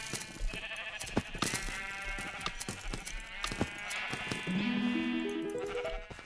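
Sheep in the Minecraft video game bleat several times in short, close calls over a busy background of game sounds and clicks, with a rising chime sequence near the end.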